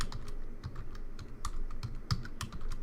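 Rapid, irregular clicking of keys on a computer keyboard, close up and fairly quiet, with no voices.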